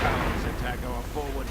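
German gunfire rakes troops in a WWII real-time strategy battle, Wehrmacht against US and Commonwealth forces, as dense booming artillery-like blasts rumble under a commentator's continuous talk.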